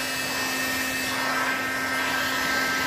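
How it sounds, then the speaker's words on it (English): Heat gun blowing continuously on a Raleigh Burner bicycle frame during restoration, a steady loud fan-and-air roar with a constant hum and no pauses. "Run the heat gun over it."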